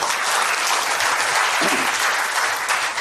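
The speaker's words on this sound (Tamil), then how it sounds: "உங்க கைத்தட்டுகள் அதை உறுதிப்படுத்தட்டும்" Audience applause at a film appreciation event in Chennai honouring the crew of the film Nandhan: a dense, steady wash of many hands clapping, loud and sustained for the whole stretch.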